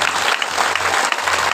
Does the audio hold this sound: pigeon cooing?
no